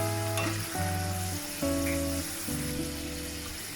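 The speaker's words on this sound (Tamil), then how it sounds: "கொண்டக்கடலை முக்காப்பதத்துக்கு பொரிஞ்ச உடனேயே மிதக்க தொடங்கிடும்." Chickpeas deep-fry in hot oil for a spicy Sri Lankan mixture, giving a continuous, close sizzle and crackle with a steady tonal hum beneath it.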